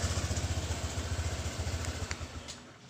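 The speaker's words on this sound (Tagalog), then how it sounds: "Namatay yung makina." A Honda Click 150i scooter engine idles with a rapid, steady chugging pulse up close, then loosens and fades as it is shut off with a kill switch.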